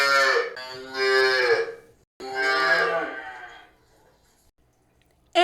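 A cow moos twice in long, loud, drawn-out calls with a short gap between them, heard up close with no other sounds, followed by a brief burst at the very end.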